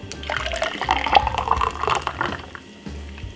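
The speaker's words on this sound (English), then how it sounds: "now I'm just gonna simple pour it out, like you guys can see" Freshly blended juice poured out of a blender jug, a continuous close splashing and gurgling of thick liquid that tapers off near the end.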